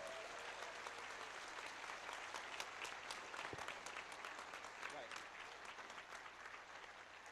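Sustained applause from a convention audience at an award ceremony, honoring a man who worked on the event's TV coverage: dense, even clapping filling the whole stretch, loud and unbroken.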